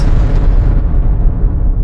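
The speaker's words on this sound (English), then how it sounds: "And the explosion happens." A ship explosion sound effect, a loud, dense roaring blast that fills the whole short clip with rumbling low energy and slowly fades at the top end.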